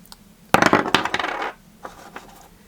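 Dice tumble and clatter onto a surface in a quick burst of hard rattling clicks that dies away, followed by a couple of faint settling taps, in a quiet room during a reading-game roll.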